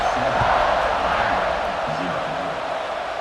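A dense, steady roar of a large video game stadium crowd at an American football game, loud and continuous, with a faint commentator-like voice murmuring underneath.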